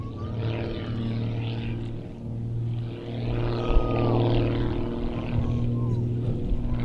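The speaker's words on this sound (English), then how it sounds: "really showing us something of the speed of this modified S2S model as Rich runs in and pulls vertical for a climbing rolling tower." A modified Pitts S2S propeller aerobatic plane at an airshow runs in and pulls vertical, its engine a steady droning hum with a slight rise in pitch as it climbs, moderately near, under continuous commentary.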